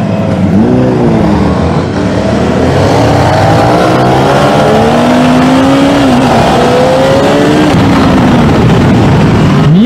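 A Honda 600RR motorcycle engine revs loudly and close by, the pitch climbing and falling in repeated throttle blips over a constant mechanical roar with no break.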